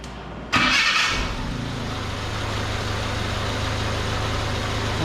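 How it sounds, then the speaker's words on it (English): A 1979 Chevy LUV pickup's four-cylinder engine cranks briefly and catches with a loud burst, then settles into a steady low idle that runs evenly for several seconds, close up. "I'm going to start the engine, make sure it's idling"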